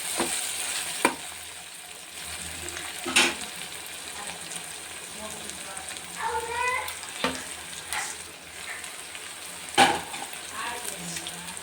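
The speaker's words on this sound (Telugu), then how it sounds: "ఉల్లిపాయలు మగ్గుతూ ఉంటే మగ్గిపోయాయి" Onions cooking in a pan, a soft continuous sizzle under occasional stirring scrapes and clinks, with a few brief background noises; close, moderate level, no talk.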